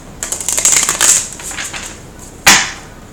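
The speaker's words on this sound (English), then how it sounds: "let's do a little shuffle like this" Tarot cards shuffled by hand, a quick run of papery riffling flutters followed by a pause and one sharp final riffle, close and crisp.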